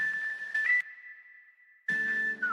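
A chopped whistle sample in FL Studio sounds as a clear sustained whistled tone, cut into short segments with abrupt starts and stops and a slight pitch bend near the end.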